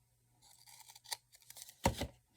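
Scissors trim crooked edges off papercraft Christmas dangles, with a few soft snips and paper rustles followed by one louder, close cut near the end.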